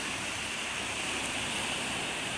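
Sea water currents flowing along a shoreline where waves run high at night, a steady broad wash of water noise with no breaks, fairly loud and constant throughout.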